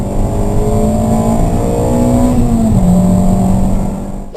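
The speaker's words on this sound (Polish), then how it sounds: "model ten nazywa się Primera 20V, a silnik kręci się do 7700 obrotów na minutę" A Nissan Primera 20V with its naturally aspirated 2.0-litre SR20VE four-cylinder revs hard toward 7700 rpm, a loud, steady, close engine howl holding and shifting pitch throughout, alone with no talk.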